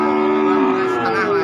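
A cow lets out a long, drawn-out low moo, loud and close, with faint background murmur, at a livestock market in Blora, Central Java; Ongole crossbreed (PO) cattle.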